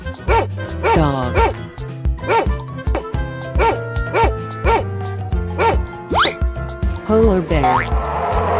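A dog barks in an animal guessing game, a regular series of short, evenly spaced yaps repeating about twice a second over background music, followed by a quick rising sweep.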